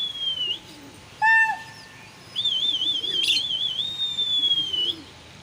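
Flying pigeons outdoors, with bright warbling whistles and a short burst of tonal chirps, fairly close and loud, between quieter pauses.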